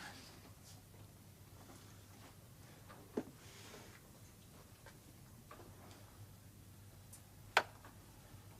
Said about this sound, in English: I didn't realise how the clock was a-ticking on.